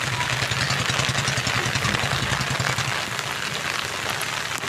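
Rain falls steadily around a house beside a road, a dense even hiss with a low engine rumble running underneath for the first few seconds.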